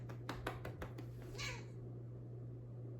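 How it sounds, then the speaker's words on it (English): A very vocal house cat meows once with a drawn-out cry, preceded by a quick series of light taps, over a steady low hum in an indoor room. "She's just one of those very vocal cats."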